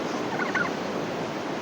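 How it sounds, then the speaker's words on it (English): Farm turkeys gobble at feeding time, a short burst of warbling calls at moderate distance over steady outdoor background noise, with no talking. "All my turkeys think it's feeding time."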